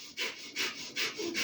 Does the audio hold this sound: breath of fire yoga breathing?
yes